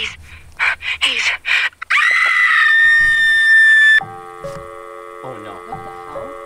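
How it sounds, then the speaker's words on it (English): A loud, sustained scream rings out in a forest near an abandoned campsite, a strained high cry lasting about two seconds after bursts of excited talk, then cutting off abruptly to a quieter tonal drone with murmuring voices. "Sounded exactly like the scream we just heard, right?"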